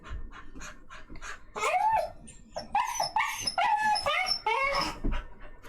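A pet dog yips, whimpers and gives short barks up close, bursts of high whining mixed with sharper barks in an uneven, excited rhythm.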